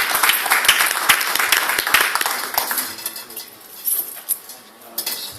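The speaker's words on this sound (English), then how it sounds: "Please give him a round of applause." Crowd applause at a public speaking event, with sharp claps, loud at first and thinning out over a few seconds to scattered claps.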